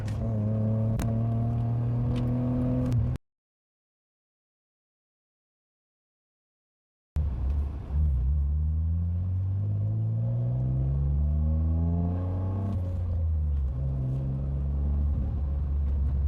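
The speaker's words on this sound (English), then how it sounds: "As we shift to the third gear" A BMW E46 with new injectors and spark plugs accelerates, its engine note climbing in pitch, then a gear change drops it before it rises again. The engine sounds close and steady, with a few seconds of total silence near the start.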